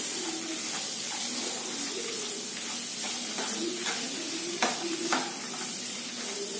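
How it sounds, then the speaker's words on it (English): Onions fry in a pan for paneer butter masala, a dense close sizzle that runs throughout, with occasional scraping stirs and a few sharper clicks of the spatula near the end. Speech is faintly present. "let it become golden brown onion"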